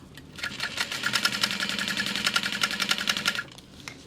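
A sewing machine stitches a seam on a crossbody bag, running in a steady, rapid rhythmic clatter for about three seconds before stopping. No one talks over it.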